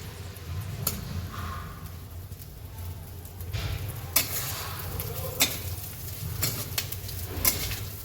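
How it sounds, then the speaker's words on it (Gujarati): Fresh ginger roasting in ghee in a pan over a gas flame for winter aadu paak, with steady sizzling and a few sharp stirring scrapes against the pan, close and moderately loud, with no talking. "હવે આપણે આદુ શેકી લઈશું પહેલાં."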